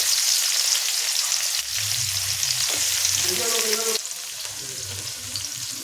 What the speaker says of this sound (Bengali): পেঁয়াজ কুচি এখানে দিয়ে দিয়েছি কড়াইতে